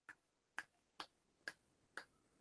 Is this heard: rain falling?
no